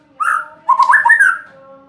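A songbird sings a short phrase of warbling, whistled notes, close and clear, with two brief bursts separated by a pause and no talking.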